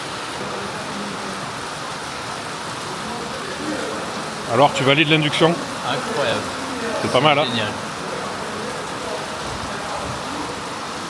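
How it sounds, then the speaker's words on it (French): Heavy rain falls steadily on a shelter, a constant dense hiss throughout, while people talk briefly in the middle. "Bon, ben il pleut toujours autant. On a bien fait de prendre cet abri."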